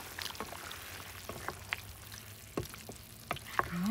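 Humba pork with black beans and canned pork and beans stirred in a pan, a low simmering bubble with scattered clinks and scrapes of the spoon, close and fairly quiet with no talking.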